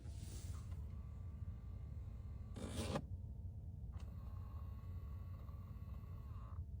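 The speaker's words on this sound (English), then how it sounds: "This is the sound of the blend door actuator actuating" The HVAC blend door actuator in a 2017 Ford Explorer is turned between hot and cold. It gives brief, faint whirring and scraping bursts that start and stop over a quiet background hum.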